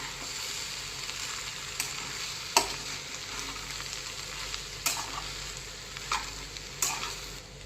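Small cut eggplant pieces, cooked with field beans for a wedding-style curry, are stirred through a pan over a soft steady sizzle, with a few sharp scraping clicks as the spoon moves.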